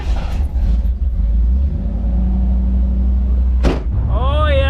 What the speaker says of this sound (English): Now I can go for a proper cruise in my IROC-Z Convertible Z28 Camaro